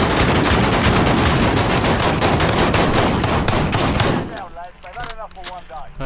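An MP5 fires in a video game: dense rapid automatic bursts, loud and close, run together for about four seconds before stopping, then faint chatter and brief voice sounds.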